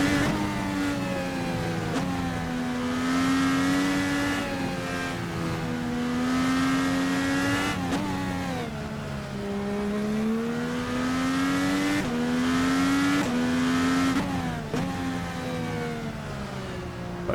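A Formula NA Indycar engine in the rFactor 2 racing game screams at high revs, rising and dropping through quick gear shifts with a steady, loud roar for the whole stretch.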